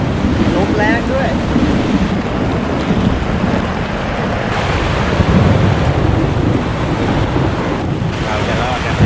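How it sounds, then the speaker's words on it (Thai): Strong wind at a mountain campsite blows hard and steadily, buffeting the microphone with a loud rumbling roar that barely lets up. "ลมแรงด้วย"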